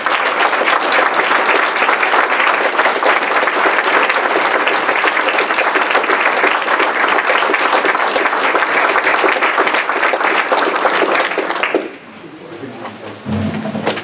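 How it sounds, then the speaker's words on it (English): Sustained applause at a school district board meeting for Richie Martinez, steady and fairly loud clapping from the room that stops abruptly near the end, followed by faint room noise. "So let's give also Richie a round of applause."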